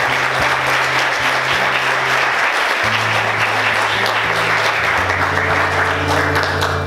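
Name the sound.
church congregation applauding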